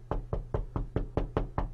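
Seven rapid, evenly spaced knocks on a door, close and crisp, with no voices over them.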